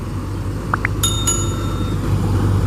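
A bright notification bell chime rings out twice in quick succession, preceded by two short rising blips, with a steady low hum underneath and no talking.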